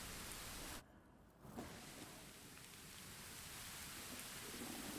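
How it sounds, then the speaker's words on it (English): Rain falls steadily in the video game Pathfinder: Wrath of the Righteous as an even, soft hiss. It briefly thins out for about half a second early on, then carries on unbroken with no voices. "it's still raining"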